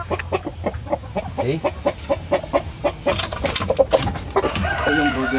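Heritage chickens on a farm clucking in a quick, steady run of close, short calls, with a voice speaking briefly over them.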